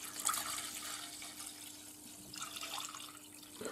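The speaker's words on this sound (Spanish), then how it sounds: "Lo primero que hacemos es echar el vino en una cacerola." Wine splashes and trickles into a saucepan in a soft, continuous liquid pour, faint and close, ending with a few small splashes and no voices.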